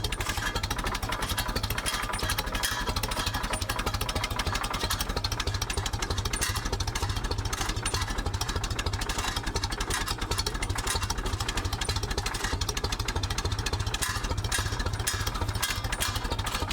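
The engine of an old Ferguson TED 20 tractor with some faults idles steadily close by, a continuous rough, clattering mechanical chug that keeps an even level throughout with no talking.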